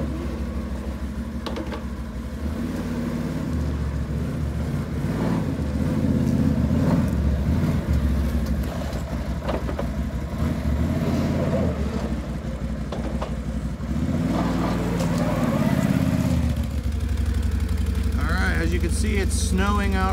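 A truck fitted with a snow plow rumbles out of a garage in falling snow, its engine loud and steady with clattering throughout, while people talk over it.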